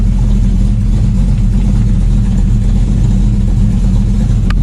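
A Ford XW car's engine runs steadily at idle, a loud, constant low rumble with no talk over it.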